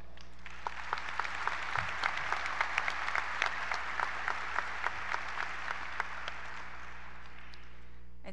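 Graduation audience at a 2021 high school commencement applauding steadily, a dense wash of clapping with a few sharper individual claps standing out, sustained for the whole stretch at moderate distance.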